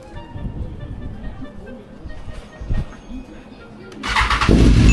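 After an overnight battery charge, an engine cranks and catches, with low rumbling and a voice over the early part, then a louder burst as it fires and begins running close by.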